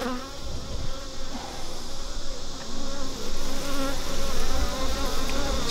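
Dense, steady buzzing of honeybees in an open hive during an inspection, a close swarm hum that swells slightly in loudness and carries on without talk.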